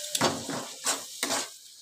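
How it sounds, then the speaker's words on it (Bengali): Chicken and spices, with grated tomato, being sautéed in a pan for butter methi chicken, heard as three close, loud scraping stirs in quick rhythm, each bringing a short burst of sizzle. "এবার আমি ভালো করে কষিয়ে নেব।"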